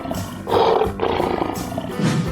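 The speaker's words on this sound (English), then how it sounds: "Lion." A lion gives a deep, loud roar in two or three rough, throaty bursts.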